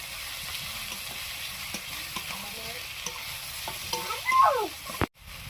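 Chopped onion with ginger-garlic paste frying in a pan, a soft continuous sizzle with scraping stir strokes, close by, a sharper clatter near the end.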